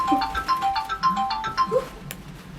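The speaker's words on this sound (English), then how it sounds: "oh, that's my phone." A mobile phone ringtone plays a repeating electronic melody of bright chirping notes, moderately loud and close, cycling several times before it stops.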